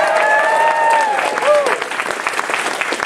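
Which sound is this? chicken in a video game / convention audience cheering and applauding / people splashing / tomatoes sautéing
convention audience cheering and applauding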